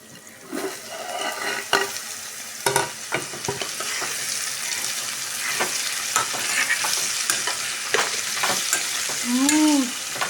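Ivy gourd tempering fries in a pan, a steady close sizzle broken by sharp scrapes and clatters of a stirring spoon, with a brief whistle-like tone near the end.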